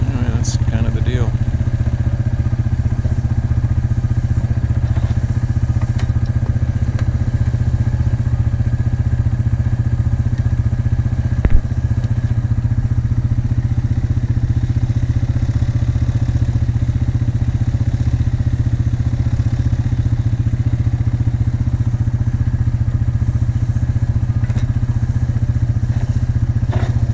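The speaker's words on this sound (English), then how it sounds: "Have been liking this little mini X we rented from Sun Rental, that John Deere 35G." A rented John Deere 35G mini excavator runs steadily up close, its engine drone constant and loud throughout, with one brief knock partway through.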